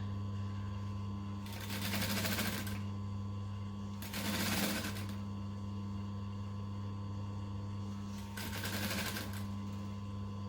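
A sewing machine stitches along the edge of a circle skirt in three separate bursts of whirring, each a second or so long, over a steady mains hum, with no talking.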